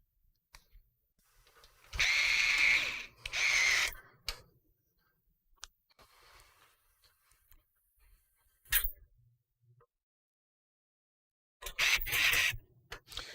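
A power screwdriver drives screws into a ThermalTake Level 20 VT glass computer case. There are a few short whirring bursts and small clicks with quiet gaps between them, close by, and no talking.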